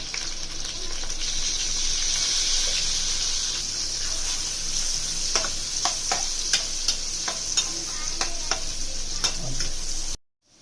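Drumstick (moringa) pieces frying in oil with turmeric in a pan, a steady close hiss and sizzle throughout, broken by scattered clicks of stirring, ending abruptly.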